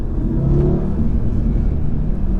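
A BMW M140i or Audi RS3 accelerating hard on a country B-road, with a steady loud engine roar and rumble from inside the car that holds for the whole stretch.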